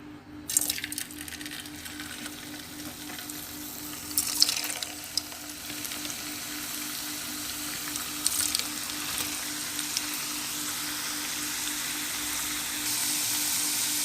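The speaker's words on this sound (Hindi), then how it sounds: "फ्राई पैन में ऑयल हमारा गर्म हो चुका है। अब हम आलू इसमें डालेंगे।" Potatoes frying in hot oil in a frying pan over a medium flame, a steady broadband sizzle and crackle that holds fairly even throughout with a faint hum underneath and no voices.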